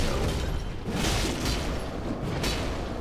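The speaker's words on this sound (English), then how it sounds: "They breathe fire, they also throw fireballs." Fire breath and thrown fireballs from jailer enemies in Dark Souls 3 make a steady roaring, rushing blast that carries throughout with a few brief swells, loud and close.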